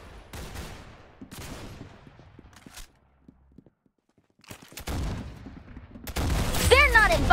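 Gunfire in the Roblox shooter Arsenal: several short bursts of shots in the first three seconds, a quiet gap, then denser, louder firing and game effects building toward the end.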